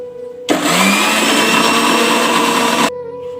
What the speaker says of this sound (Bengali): টক দই আর স্ট্রবেরিটাকে আগে ব্লেন্ডার করে নেব